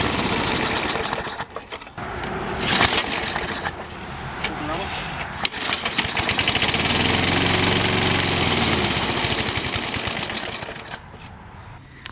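Small lawn mower engine running after a carburetor cleaning, a rough, uneven idle that stutters and surges near the microphone, with people talking over it.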